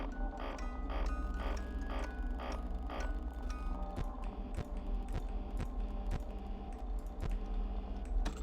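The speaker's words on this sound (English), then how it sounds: "Then back to typing" Keyboard typing in a stretch of Five Nights at Freddy's 2 gameplay: a dense run of quick clicky keystrokes early on, then sparser, louder individual key taps over a steady low game hum.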